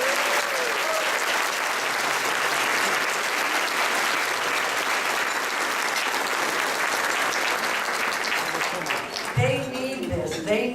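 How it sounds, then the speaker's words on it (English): Sustained applause from a large audience at a most inspiring student awards event, steady and dense for about nine seconds, then thinning out as voices and cheers break through near the end. "I want you to give them applause right now"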